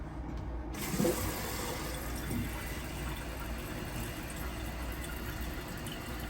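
Water runs steadily into a toilet tank through a freshly raised fill valve, a continuous rushing fill noise at moderate level with no talking.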